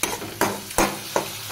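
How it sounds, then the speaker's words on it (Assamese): Tomatoes fry in hot oil for a borali fish curry, a loud close sizzle broken by four evenly spaced surges as the pan is stirred. "একদম বিলাহী পুৰা তেলত দি দিছে"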